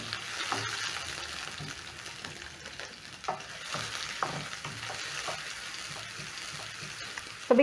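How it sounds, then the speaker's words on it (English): A large onion fries in hot oil in a medium pan, a close, lively sizzle with bursts of stirring and scraping throughout. "I've added some oil to my pan, so I'm going to add in one large onion."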